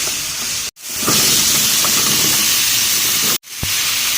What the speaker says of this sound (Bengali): তরকারিগুলো মশলার সাথে একটু কষিয়ে নিই এতে করে কাঁচা ভাবটা যাবে